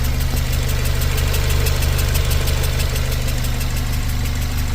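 A Volkswagen Golf 7 R at 258,000 km idles with a steady, fairly loud mechanical drone, carrying a faint ticking knock from a leaking injector seal, close up and without talk.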